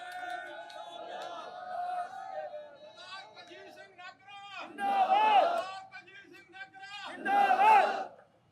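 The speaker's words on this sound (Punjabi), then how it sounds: "2022 ਦੇ ਲਈ ਬਾਹਾਂ ਖੜੀਆਂ ਕਰਕੇ ਮੈਨੂੰ ਜਕਾਰਿਆਂ ਦੇ ਨਾਲ ਆਪਣੀ" A political rally crowd roars Sikh jaikara slogans in unison, two loud collective shouts after someone speaks through a microphone, each swell rising and fading.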